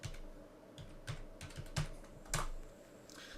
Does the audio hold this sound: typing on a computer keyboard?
yes